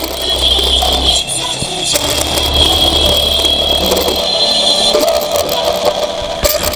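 Loud, buzzy, distorted sound pours from a small toy DC motor acting as a speaker, a harsh tinny drone with shifting tones and no clear words.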